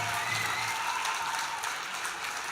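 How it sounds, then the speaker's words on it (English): A festival crowd at a First Nation arts and language event gives a round of applause, a steady dense wash of clapping heard from some distance with no break. "let's also give Miller High School a big round of applause"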